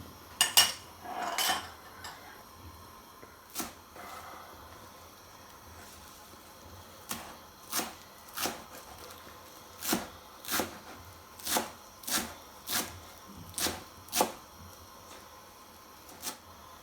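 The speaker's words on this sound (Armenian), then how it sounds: "Ահա, ես էլ կանաչին կկտրատեմ։" Fresh herbs being chopped with a knife on a board, a series of crisp, evenly paced cuts coming faster and steadier toward the end, close and fairly quiet, with a few clinks of kitchenware at the start and no talking.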